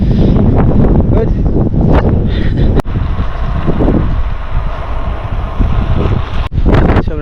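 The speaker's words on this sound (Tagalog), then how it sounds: "ang lakas ng hangin" Strong wind buffets the microphone outdoors, a loud continuous roar with gusty rumbling throughout and brief dips, while a person talks under it.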